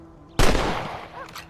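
A single sharp rifle shot in Red Dead Redemption 2, loud and close with a long rumbling tail, followed by faint outdoor ambience.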